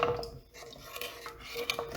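A spoon stirs cheesecake flan mixture in a pot on high heat, close scraping and clinking of metal against the pot in quick irregular strokes.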